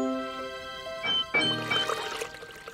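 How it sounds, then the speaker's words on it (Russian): Water runs from a kitchen tap in an animated kitchen as dishes are about to be washed, a brief splashing gush starting after a few soft tinkling tones and flowing steadily to the end. "Открывай кран."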